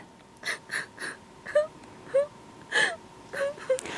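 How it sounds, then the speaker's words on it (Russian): A child lets out a series of short whimpering wails and sobbing moans, several brief bursts in a row, close and fairly loud. "Ой, ребята, вы слышите? Тут кто-то плачет."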